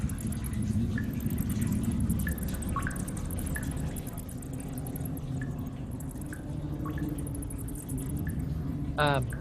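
Water drips in a cave during a tabletop role-playing game ambience: sparse, light plinks scattered at irregular intervals over a steady low ambient bed, with a brief bubbling trickle at the end.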